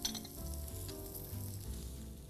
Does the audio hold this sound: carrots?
yes